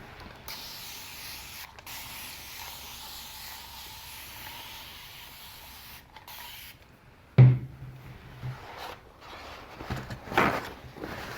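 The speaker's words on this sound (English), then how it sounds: "And then spray it off with some water and clean it." A steady hiss of water sprayed to rinse off painted furniture starts abruptly and runs a few seconds, then fades into quieter rustling and a second brief burst, with no talking.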